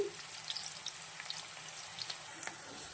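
Onions with ginger garlic paste frying in a pan for chicken curry, a faint continuous sizzle with a few light scattered clicks.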